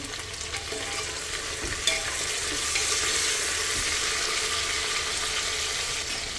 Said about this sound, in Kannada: ಟೊಮ್ಯಾಟೊ ಹಾಕ್ಕೊಳ್ತಾ ಇದ್ದೀನಿ. ಟೊಮ್ಯಾಟೊ ಕೂಡ ಸ್ವಲ್ಪ ಫ್ರೈ ಆಗಲಿ.